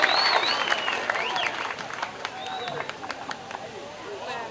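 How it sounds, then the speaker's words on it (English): A crowd cheers and applauds at a men's sepak takraw match between Myanmar and Malaysia. The roar is loud and sustained, with scattered claps and whistles, and an announcer talks over it. "Listen to the crowd."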